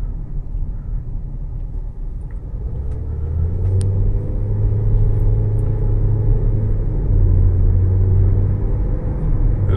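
A rental car driving, with a steady low engine and road rumble that swells a little as it picks up speed, close and continuous with no talk.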